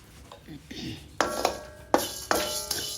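A spatula scrapes and knocks against a pan as fenugreek and other spices are dry roasted for flaxseed idli podi: soft rustling stirs, then several sharp metallic clinks, close up.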